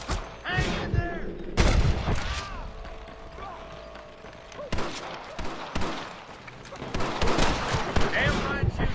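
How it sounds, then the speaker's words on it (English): Gunfire in the Red Dead Redemption video game, with sharp shots and bursts scattered across the scene amid mechanical clatter, mixed with voices and game effects. "Damn fine shooting, boys."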